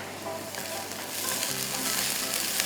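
Tomatoes going into a hot pan of sautéed spices for daal, setting off a strong, steady sizzle that grows a little louder partway through as they hit the oil, close and continuous, with no talking.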